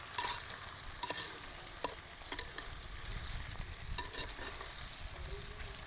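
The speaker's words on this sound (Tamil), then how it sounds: "நல்லா மிக்ஸ் பண்ணணும்." Bamboo shoots are stirred and mixed in a hot pan, with a constant frying sizzle and repeated scraping strokes and clinks of a spoon against the pan at a moderate, close level.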